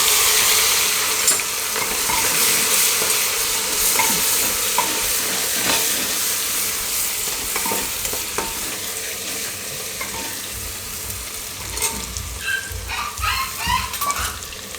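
Ginger, green chili and garlic sizzling in hot oil with coriander-cumin powder for pressure cooker pav bhaji, a steady loud crackle with scraping stirs and a few sharper pops near the end, no voices.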